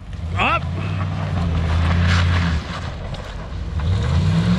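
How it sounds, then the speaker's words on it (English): A 1969 shop truck with a posi rear end does donuts on ice while its engine revs and drones, rising and falling, with wind buffeting the microphone and a voice talking over it. "So we have the posi rear end doing donuts on ice."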